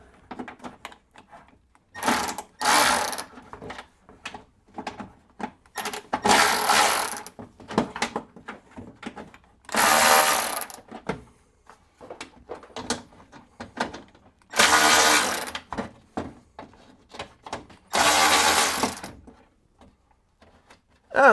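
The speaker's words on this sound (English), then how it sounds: "Let's unloosen all these bolts." A wrench loosens bolts on the light bar mount of a RAM 1500 Limited, heard as bursts of bright, rapid ratcheting clicks. Several spaced runs of two to three seconds each come from close by, with quiet mechanical handling in between.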